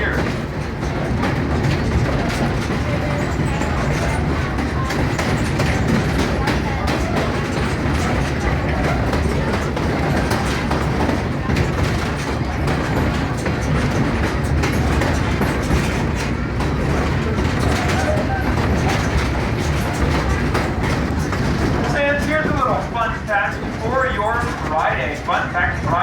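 A diesel tourist train circles a mountain, a continuous loud rumble of the engine and rolling wagons with rhythmic rail clatter throughout, heard from on board, with people talking over it and a brief musical sound near the end.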